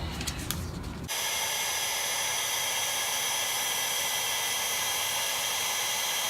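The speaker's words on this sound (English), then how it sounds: "Here is my heat tool." A Darius heat tool for melting embossing powder starts up after a brief clatter, then blows with a steady, loud, broadband whirring hiss that holds unchanged to the end, close to the microphone with no talking.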